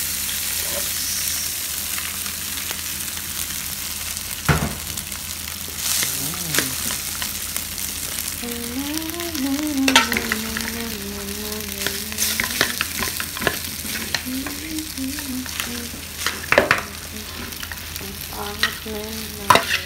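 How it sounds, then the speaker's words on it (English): Curry fried rice being stir-fried in a pan, with steady sizzling and the repeated scrape and clatter of a utensil against the pan, close and fairly loud, with no talking. "This is how I make my curry fried rice."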